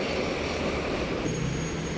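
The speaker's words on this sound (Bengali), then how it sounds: "ট্রাম চলে গেল" A tram pulls away from a Bucharest station, a steady, fairly faint rumble with a thin high whine joining midway and no talking.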